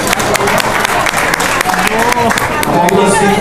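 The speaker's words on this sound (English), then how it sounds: "Super round of applause for that." An audience at the 20th anniversary Dominican parade in the Bronx claps loudly and steadily, a dense burst of applause with no talk over it.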